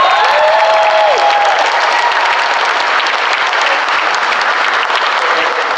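A crowd at an election-night campaign event applauds a devoted donor, steady close clapping that fills the room for several seconds, with a brief cheer riding over the start.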